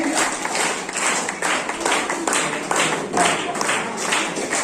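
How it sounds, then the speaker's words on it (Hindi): An audience claps at a school prize ceremony during an Independence Day celebration at a primary school, steady continuous applause with a rhythmic patter throughout. "तालियां बजाते रहेंगे।"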